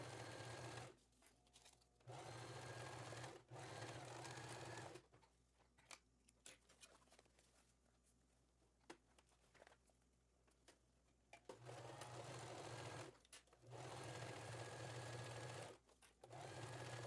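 A sewing machine stitches a seam joining lining fabric to the main fabric of a travel toiletry organiser, running in steady loud bursts with short pauses and a longer quiet stretch of handling in the middle.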